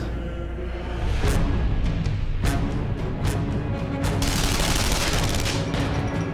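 Gunfire rings out in the video game Wanted: Weapons of Fate, sharp shots and short bursts over a rumbling background that grows busier and louder partway through.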